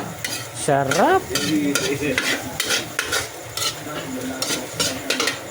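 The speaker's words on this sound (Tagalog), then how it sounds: "Malapit na guys maluto yung sisig with egg." Sisig with egg sizzling loudly in a pan as it is stirred, a dense frying hiss broken by repeated scraping strokes, close up, with a brief spoken word and a short whistle-like tone early on.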